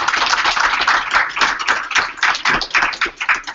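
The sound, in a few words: round of applause at a board meeting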